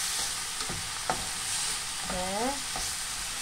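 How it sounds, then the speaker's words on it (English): Vegan pineapple fried rice fries in a pan with a steady sizzle and occasional stirring scrapes, and a voice briefly speaks once over the cooking. "So like we just keep frying that all the way to the bowl."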